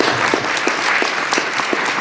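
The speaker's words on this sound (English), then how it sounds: "A round of applause for our panel" Audience applause for a conference panel, a steady, fairly loud bed of clapping from a crowd with distinct individual claps popping out in an irregular rhythm over its short span.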